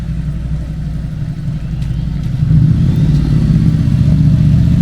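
A large motorcycle engine rumbles steadily nearby, its low throb growing louder and rougher toward the end as it revs.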